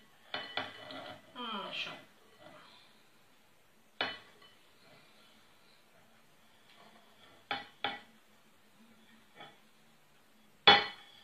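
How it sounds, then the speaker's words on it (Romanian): Sparse metallic clinks and scrapes of a utensil stirring lemon zest, vanilla and salt together in a bowl for shortcrust pastry, a few isolated knocks spread out over quiet, with a brief spoken word. "Și acestea le punem pe toate și le amestecăm pe toate împreună."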